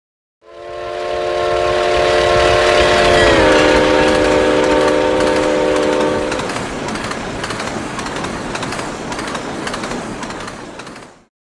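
A steam locomotive pulling a heavy passenger train of over 1,000 tons sounds a long, loud whistle, then rumbles and clatters past with rhythmic rail noise as the sound fades away.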